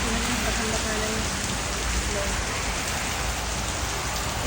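Heavy rain pours down steadily during a storm in the UK, a dense, loud hiss of drops striking surfaces with no let-up throughout.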